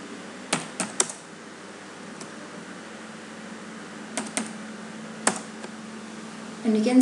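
Keys clack on a computer keyboard while router commands are entered, coming as a few quick bursts of close, crisp taps separated by pauses, over a faint steady hum.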